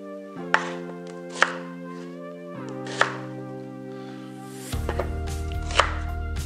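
Five medium onions roughly chopped with a knife on a board, a handful of sharp, spaced chops standing out over steady background music.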